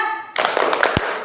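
A classroom of pupils performs the 'tepuk semangat' patterned cheer clap, a short burst of sharp, fairly loud hand claps after a quiet start, with one heavy thump near the end.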